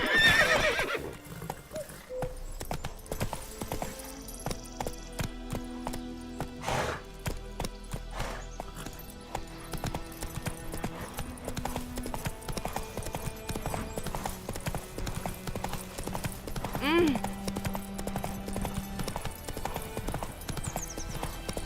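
Roach, the horse in The Witcher 3, runs with rhythmic galloping hoofbeats under game music, letting out a clear whinny near the start and another around the middle.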